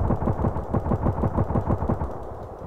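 Rapid automatic assault rifle fire in the first-person shooter Contract Wars, a loud, close string of evenly spaced shots in quick bursts that fills the whole moment, with no talking.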